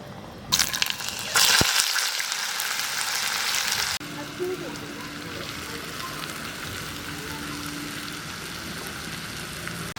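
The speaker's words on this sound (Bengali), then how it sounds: "এবার আমি লাউ দিয়ে দেবো।" Chopped bottle gourd drops into a hot pan with fried lentil dumplings, a loud burst of sizzling and splashing that settles into a steady, softer frying crackle, with a voice faintly in the background.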